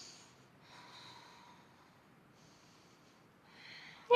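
Slow, long breaths during a yoga flow leading into crow pose, three soft drawn-out exhalations with quiet gaps between them, close and faint with no talking.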